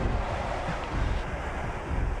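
Floodwater from the river in High River, Alberta, rushes through the town streets as a dense, continuous roar, loud and close, with no pauses.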